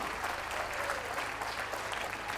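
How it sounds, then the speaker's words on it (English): Spectators around a dog show ring at Bath give a round of applause for the leading handlers and dogs, a full, steady patter of clapping from a sizeable crowd, slightly distant, over a faint low hum. "A round of applause for those leading the ring"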